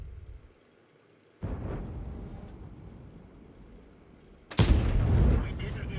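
A Skoda T 56 tank cannon fires in the online tank game World of Tanks, with a heavy boom followed by rumbling engine noise and then a second, louder and closer cannon blast.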